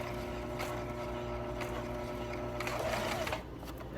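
A sewing machine stitches a closure onto fabric with an even, rapid mechanical whir that hums steadily throughout and eases slightly near the end.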